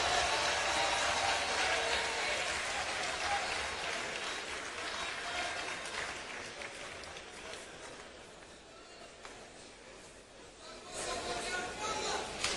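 A crowd at a political party council meeting of the MLC applauds the entrance of the president of the National Assembly, a dense, steady wash of clapping that fills the hall, dips slightly, then swells again near the end.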